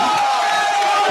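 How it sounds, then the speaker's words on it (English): An audience cheers and whoops in a brief, loud swell, a crowd roar welcoming Honorable Yeke Koluba. "let's all give a very big hand clap as I welcome Honorable Yeke"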